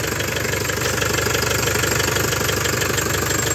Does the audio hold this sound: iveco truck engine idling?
yes